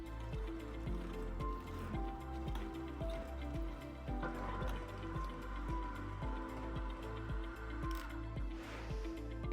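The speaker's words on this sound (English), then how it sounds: "Blend this until it is smooth and creamy." Cream cheese filling with vanilla churns in a blender until smooth, a steady loud motor whir with rhythmic thumping pulses running throughout, no talking.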